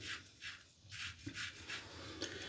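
Close, rhythmic scraping strokes of a mild Gillette Aristocrat safety razor across stubble, about five short rasping passes at an even pace, quiet and without talk.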